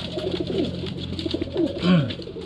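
Racing pigeons back at their loft after a fun race coo close by, with repeated soft throaty rolling calls over a low murmur of other birds.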